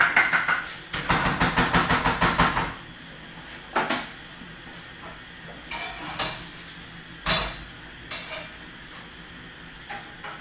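A curry with sticky rice is stirred in a pan, starting with a dense burst of fast scraping and sizzling, then settling into occasional single scrapes and clinks at irregular intervals.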